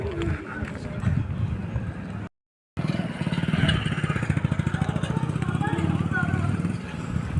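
Motorcycle engines rumble steadily close by, with horse hooves clopping and voices in the background; a brief dropout cuts the sound partway through.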